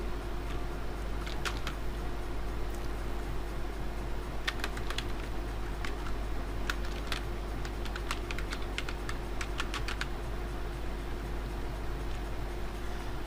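An institute's name being typed on a computer keyboard in MS Word, with quick bursts of key clicks and short pauses between them over a steady low hum, without talk.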